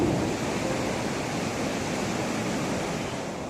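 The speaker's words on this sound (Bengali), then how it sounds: "শুনতে পাচ্ছেন ঢেউয়ের গর্জন?" Ocean waves break on the beach at Puri, a continuous broad roar of surf heard up close with no voices over it.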